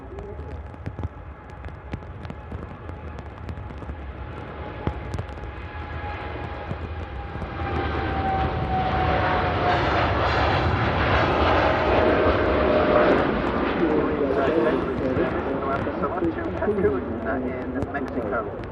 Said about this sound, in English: Gear up on the Dreamliner.